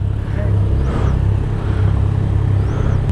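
A 2019 Can-Am Ryker three-wheeler's engine idles and revs up close in a steady, loud low rumble, swelling slightly around the first second and again near two seconds.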